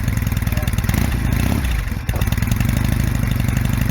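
An old motorcycle engine idles while warming up, a loud, steady lumpy chugging with rapid regular firing pulses and a brief dip midway, close to the microphone with no talk.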